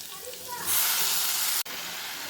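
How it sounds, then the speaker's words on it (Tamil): Chopped tomatoes dropped onto lightly sautéed onions in a pan for tomato thokku, bringing a sudden louder hiss of sizzling that holds steady, broken briefly by a short gap. "இது கூட கட் பண்ணி வச்ச தக்காளியும் சேர்த்துக்கிறேன்"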